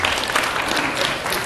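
An evening audience at a talk claps together, a short burst of loud, dense crowd applause that stays even throughout.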